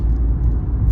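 A small Fiat 500 with a 1 or 1.2 litre engine and manual gearbox drones low and steady from inside the cabin while driving, a loud, continuous rumble.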